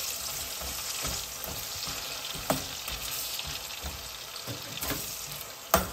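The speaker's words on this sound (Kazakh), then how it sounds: "Пиязымызды қуырайық." Onions fry in hot oil for kuyrdak with a dense, steady close sizzle, broken by occasional spatula scrapes and two sharper stirring knocks.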